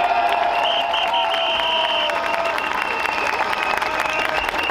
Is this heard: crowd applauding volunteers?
yes